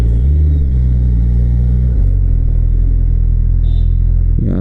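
A Suzuki Hayabusa motorcycle engine rumbles loud and close at low speed while parking, a steady deep idle with a slight shift in pitch partway through, alone with no talking.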